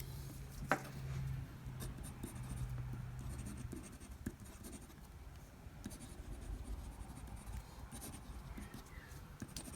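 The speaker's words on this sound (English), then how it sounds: "Let's do the writing sample." A fountain pen writes on 68 GSM Tama River paper, with a steady soft scratch of nib strokes, close and quiet, continuing for several seconds with no talk.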